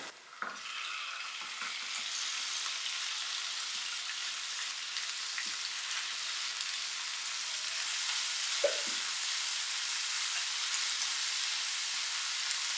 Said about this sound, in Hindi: चिकन को मैंने तकरीबन 3 से 4 मिनट फ्राई की है।